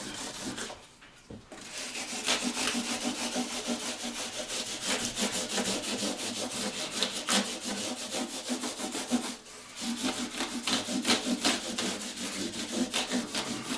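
Guitar frets on an ebony fretboard being filed and smoothed, a steady rapid rasping stroke close up, continuous and fairly loud with brief pauses near the start and around the middle.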